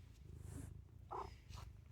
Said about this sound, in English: Oh, is that a nice purr?